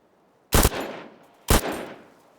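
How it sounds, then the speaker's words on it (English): Rifle gunfire in an extraction shooter video game: two sharp, loud single reports about a second apart, each trailing off in a fading echo, with no voices. "the rifle report sounds just does not sound loud enough"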